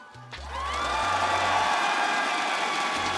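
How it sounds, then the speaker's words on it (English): Steady applause from a large audience at a Rainbow Six Siege esports event, rising quickly and sustained at a consistent level, with a faint low hum underneath. "give it a round of applause for yourself and everybody watching from home"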